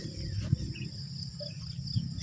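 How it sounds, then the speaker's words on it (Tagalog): Crickets chirp softly and steadily from the surrounding grass at a quiet hilltop campsite in Splendor Hills, a faint high trill with a few low bumps, and no talking. "Maririnig mo dito huni ng ibon, kuliglig."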